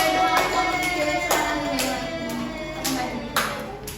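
Scattered hand claps from a fifth-grade elementary science class applauding a student group: sharp, uneven claps at irregular intervals, with some voices faintly underneath.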